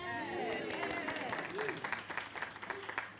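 A raucous town hall crowd applauds and cheers throughout, dense clapping mixed with whoops and excited voices, loud and close, with a few shouted calls rising above the steady applause.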